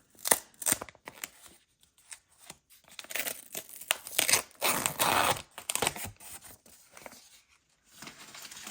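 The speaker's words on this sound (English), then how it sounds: "Now let's unwrap it." Plastic and paper packaging from a Samsung A16 5G phone being crinkled, torn and unwrapped up close, in irregular bursts of rustling and tearing separated by short pauses, with no talking.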